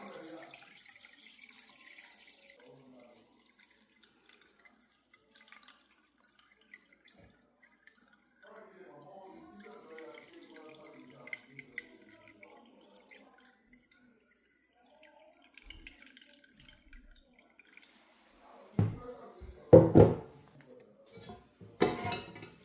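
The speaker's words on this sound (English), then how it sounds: "I'm going to sieve my ngo with this" Potash water (ngo) for cooking ukwa, African breadfruit, strained through a sieve, with faint trickling and dripping close by, followed by a few louder clanks of pots near the end.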